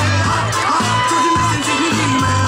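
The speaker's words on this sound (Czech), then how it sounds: "Košice čeká na váš aplaus" A crowd at an outdoor youth firefighter competition in Přehořov in 2020 cheers and whoops for the younger Košice team. The noise is steady and continuous, with children shouting over a low hum.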